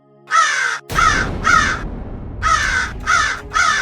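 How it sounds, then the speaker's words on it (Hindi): A crow caws about six times in loud, harsh bursts, the calls close by and separated by short gaps over a faint low rumble. "अरे ये कौवा कहाँ बोल रहा है?"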